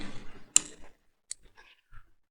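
A computer mouse clicks a few times on an Asus Zenbook Flip 13 laptop setup: one sharp near click after some murmured speech, then a couple of fainter clicks in near silence.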